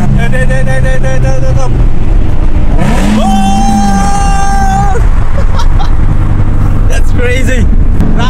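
A powerful car accelerates hard through a tunnel, its engine roaring loudly with rising and falling revs across several gear changes, while excited voices shout over it.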